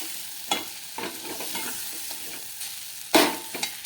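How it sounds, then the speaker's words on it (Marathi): Ground pigeon pea paste being stirred in a hot pan, a spoon scraping through the thick mixture in several soft strokes with a quiet sizzle underneath and one louder scrape near the end, close and with no voices. "या पद्धतीने मिक्स करून घ्यायचं आहे सर्व करायचं आहे"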